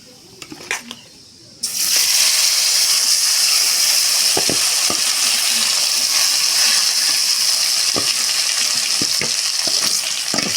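Mustard seeds and urad dal hit hot oil and burst into loud, steady sizzling and crackling, with a few sharp pops and stirring sounds throughout.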